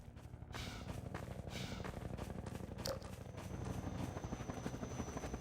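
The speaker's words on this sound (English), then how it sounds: "the Combine attack helicopter. This chopper relentlessly destroys a player's cover" The Combine attack helicopter from the video game Half-Life 2 drones steadily with a rapid thudding rotor pulse, mechanical and continuous, with faint metallic clanks scattered through it.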